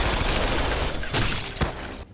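A dense, continuous barrage of gunfire with a few louder cracks standing out, sustained and heavy throughout.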